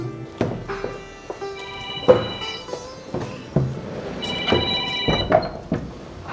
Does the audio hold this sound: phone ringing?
yes